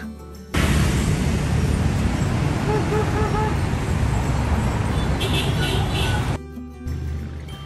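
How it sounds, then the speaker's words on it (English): A van truck drives past, a loud, steady broadband engine and road roar holding for several seconds before cutting off sharply, with a faint whine near the end. "Van truck."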